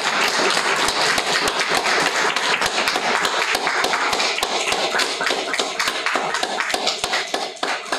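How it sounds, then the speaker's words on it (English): Audience applause for the speaker Peter at the end of a mathematics lecture, dense steady clapping from a room of people, loud and sustained throughout. "So when we now give a big round of applause to our hero, Peter"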